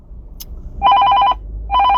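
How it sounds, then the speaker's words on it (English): A telephone rings for an incoming call, two loud electronic trilling bursts close by separated by a short pause, with no talk over them. "Just getting a phone call here."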